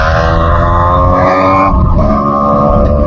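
A motorbike engine roars loud and close for an attempted wheelie, holding a steady high rev with a slight dip midway and carrying on, no talking over it.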